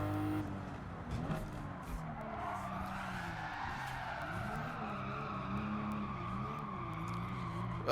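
A heavy car drifts in Gran Turismo 7 with a sustained tire squeal that rises and wavers over a steady engine drone. The sound runs continuously and stays close and fairly loud.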